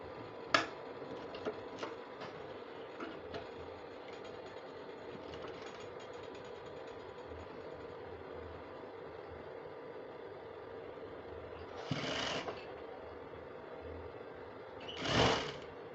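A sewing machine stitches a sleeve placket on a garment top with a steady, low mechanical whir at quiet level, broken by a few sharp clicks and brief louder bursts near the end.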